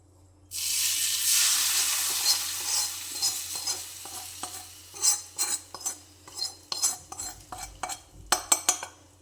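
Heated ingredients are poured onto onions in a pan, giving a loud burst of sizzling hiss that fades, followed by a series of distinct spoon scrapes and clinks against the pan as everything is mixed.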